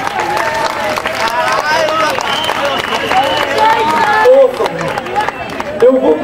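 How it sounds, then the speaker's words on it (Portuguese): An audience at a live outdoor village show in Marecos applauds a singer as she is introduced, a steady wash of clapping and crowd chatter mixed with talk and cheers. "Uma salva de palmas para ela!"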